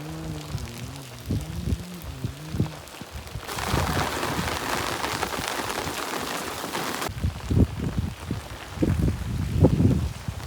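Heavy rain mixed with gusting wind pours down outdoors during a Gujarat downpour, a dense loud hiss that swells for several seconds amid nearby movement and scattered thumps, with a brief tonal sound near the start.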